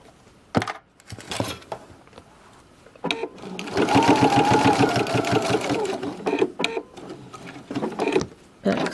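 A sewing machine stitches fabric binding, its needle chattering in a steady mechanical rattle that starts and stops in short runs, with a longer continuous stretch in the middle, close up and loud.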